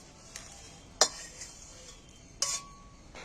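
Fried spices for a crispy fish fry are tipped from the pan onto a plate, giving a few sharp clinks of metal on the dish with quiet pauses between them.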